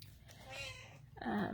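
Domestic cat meowing nearby, a short drawn-out meow followed by a second rising cry, quiet overall in an indoor room.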